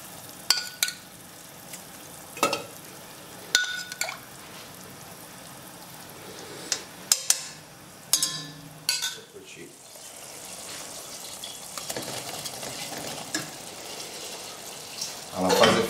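Tortellini with fava beans and zucchini being stirred in a pan, with a soft continuous sizzle and scattered scraping clicks of a utensil against the pan, some louder knocks, and light talk over it.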